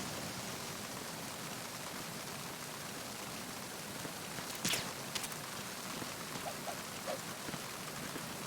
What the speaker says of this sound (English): Probably too loud with the rain.